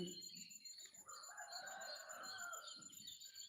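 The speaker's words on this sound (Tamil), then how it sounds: "கருவாச்சி கோழி" A Karuvachi black chicken clucks and calls close by, with a lively stream of fowl sounds and faint bird chatter in the background.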